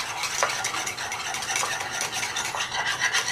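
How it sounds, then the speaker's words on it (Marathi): Curd (dahi) is whisked briskly in a bowl, a continuous wet scraping and slapping with a quick, even rhythm, close and moderately loud, with no voices. "हे चांगलं फेटून घ्यायचं, म्हणजे ते एकजीव होतं."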